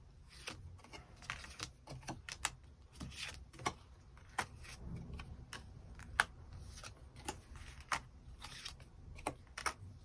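Tarot cards are shuffled and drawn in a quiet room, producing a steady run of soft, close papery flicks and taps.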